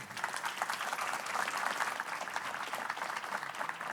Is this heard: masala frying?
no